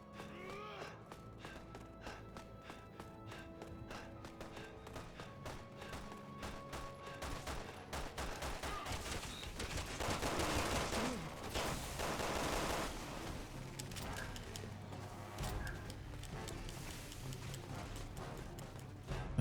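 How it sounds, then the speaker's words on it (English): Enemies fire on the player from behind in Resident Evil 6 on a snowy stage with a snowmobile. Rapid clattering shots and bursts build and then fade over a steady background. "Those guys shooting at us from behind."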